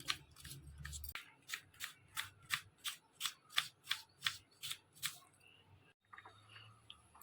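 A knife thinly slicing a potato on a board, about a dozen crisp, evenly paced cuts in a quick close rhythm, followed by a brief pause and faint handling.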